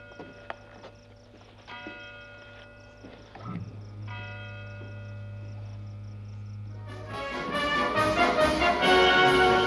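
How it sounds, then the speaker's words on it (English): The Big Ben clock bell chimes in a series of clear, ringing strikes that overlap and sustain, then swells into a fuller, louder peal near the end. "Big Ben. I'll never call you anything else. Chiming out."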